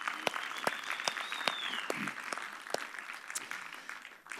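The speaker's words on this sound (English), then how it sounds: "Can we clap our hands and welcome our online community today?" A church congregation claps in welcome, a steady wash of many hands with sharper individual claps standing out, fairly close and continuous before tapering off at the end.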